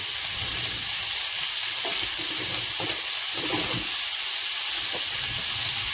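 Onions browning in a frying pan for onion gravy, a steady, close hiss and sizzle throughout with a few soft clinks of stirring.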